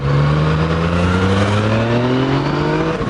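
A Yamaha MT-09 Tracer motorcycle accelerates in town, its engine note climbing steadily in pitch as it pulls hard, loud and close for about three seconds.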